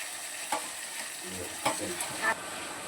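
Tomatoes sizzle in hot oil with a steady crackle, broken by a few sharp scrapes of stirring.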